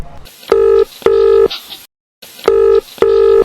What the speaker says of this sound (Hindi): कई बार फोन बजने के बावजूद